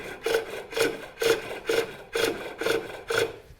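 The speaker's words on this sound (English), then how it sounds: "So I'm actually going to scrape a little bit there to get scraped." Wood being scraped on a lathe with a skew chisel for a captain's chair tapered tenon, seven rhythmic rasping strokes at an even pace, close and clear with no talk.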